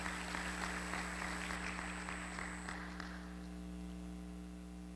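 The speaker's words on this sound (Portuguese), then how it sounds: "Essas palmas são para vocês." Applause from the audience at a state lawyers' conference rings out in a hall, a soft wash of clapping over a steady electrical hum that fades out within about three seconds, leaving only the hum.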